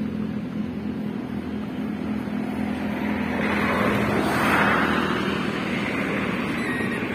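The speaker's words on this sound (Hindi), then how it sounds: "मैं आपको ये नॉर्मल मोड पे डाला और ये रेस लगाई, तो ये गाड़ी चल गई" An Ola S1 X Plus electric scooter moving off in normal mode after the throttle is applied: a steady motor whir and road noise that gradually swell, with no talking.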